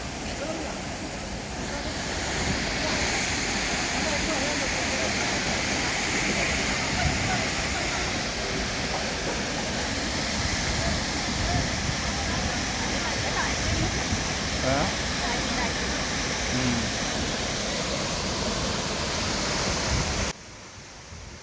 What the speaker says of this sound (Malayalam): ഇരുപത്തഞ്ച് മീറ്റർ ഹൈറ്റിൽ നിന്നാണ് വെള്ളം താഴത്തേക്ക് പതിക്കുന്നത്.